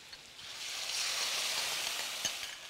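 Pineapple and sweet-and-sour sauce sizzle in a frying pan for a fish dish, a steady close crackling hiss that swells slightly mid-clip with a faint tap near the end.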